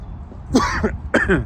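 Two short, harsh coughs about half a second apart, close and fairly loud, with no talking.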